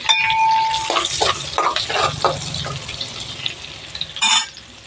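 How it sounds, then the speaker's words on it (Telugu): Cumin, green chillies, dried red chillies and curry leaves hit hot oil in a pan, crackling and sputtering amid a few metal utensil scrapes and clinks, close and fairly loud. "అదే నూనెలో కొంచెం జీలకర్ర పచ్చిమిర్చి ఎండుమిర్చి కరివేపాకు వేసుకొని"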